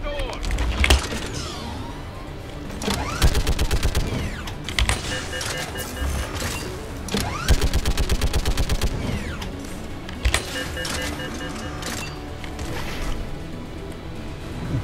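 Gunfire from a mounted gun in the video game Mass Effect 3: bursts of rapid, loud automatic shots with explosions and mechanical game effects, repeating in clusters through the scene.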